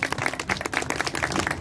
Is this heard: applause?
yes